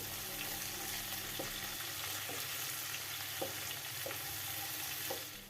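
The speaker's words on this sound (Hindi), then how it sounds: "इसके बाद इसमें हरे प्याज के पत्ते डाल दें।" Steady sizzling of green onion leaves frying in a pan for fish curry, with a few soft clicks of stirring, close up and without talking.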